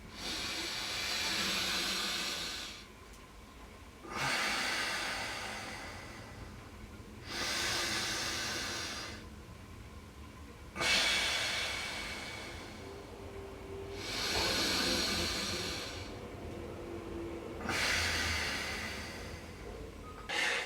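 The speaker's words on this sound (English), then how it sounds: "Inhale right, close off the right, exhale left." Alternate nostril breathing during a Kundalini yoga session: slow, airy nasal inhales and exhales alternate in a steady rhythm of about six long breaths, close and hissing, with no talking.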